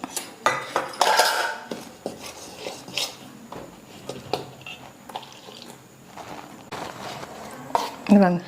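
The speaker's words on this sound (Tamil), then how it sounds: "இந்த மாதிரி கரைச்சிக்கணும்" A spoon scrapes and clinks against a bowl while stirring gram flour batter with rice flour, salt and asafoetida for karamani boondi, a run of close, irregular metallic scraping strokes.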